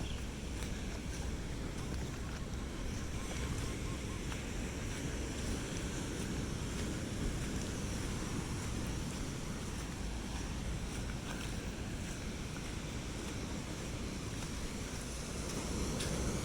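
Waves wash onto Karon Beach in Phuket as a continuous broad surf roar mixed with wind noise, steady and fairly faint throughout.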